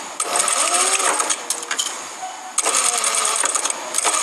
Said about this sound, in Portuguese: Então a gente coloca aqui debaixo da máquina. Retrocesso.